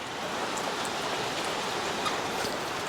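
Steady rain falling on a rainy day at a fishing spot, an even broadband hiss of drops with faint scattered ticks, close and continuous with no talk.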